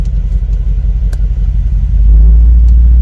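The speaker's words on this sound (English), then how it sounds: "the exhaust went louder. It opened up some valves. Love those burbles." A Mercedes-AMG G63 exhaust rumbles at idle, then swells noticeably louder and deeper as the valves open in S Plus mode, a close, heavy low burble.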